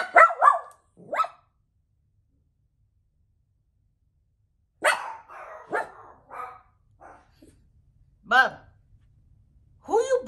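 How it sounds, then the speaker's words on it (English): A dog barks nearby in scattered single and double barks with quiet gaps between them, some sharp and some lower and gruff. "Barking for like an hour"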